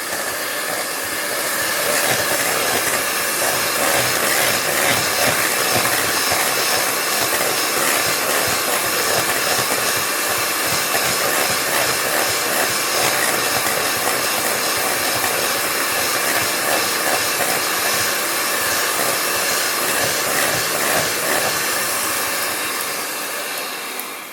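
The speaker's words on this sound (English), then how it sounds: "you don't want to overbeat this mixture because you could end up with butter of any flavor" An electric mixer beats a homemade cake frosting mixture, giving a loud, continuous whirring hiss that runs steadily from start to finish with no talking over it.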